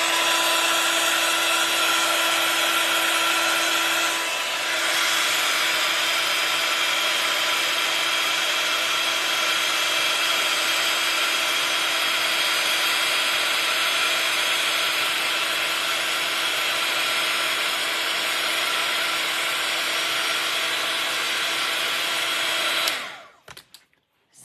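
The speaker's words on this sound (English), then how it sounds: "I don't need to heat my gun up too much." A heat gun blows steadily for about 23 seconds to melt embossing powder on an art journal page, a loud continuous whooshing hum with no talk, then cuts off abruptly at the end.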